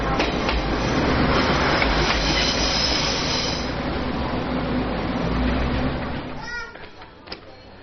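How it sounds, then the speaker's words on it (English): A train rolls through Schiffen railway station on a day's outing, a loud, steady rumble of wagons and squealing wheels lasting several seconds before fading away abruptly, with no talk over it. "So I'm in the middle of the railway tracks at Schiffen train station"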